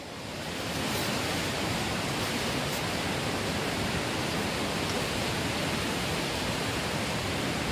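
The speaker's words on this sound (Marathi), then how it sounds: "तुम्हाला धरणावरनं पाणी पडतंय" Water pouring over a dam at close range, a dense, loud, continuous roar that fills the whole clip without pause, with no voices heard.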